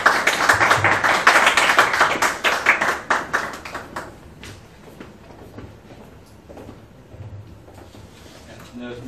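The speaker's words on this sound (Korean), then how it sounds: "박수로 환영해 주시기 바랍니다." An audience at a fintech conference workshop claps to welcome a presenter. Dense, close applause lasts about four seconds, then thins into scattered claps and fades into quiet room noise with a faint voice.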